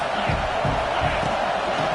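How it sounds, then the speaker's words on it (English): A football stadium crowd roars in a steady, dense wash of cheering and shouting, continuous and loud throughout with no pauses. "This crowd trying to make life miserable for this offense."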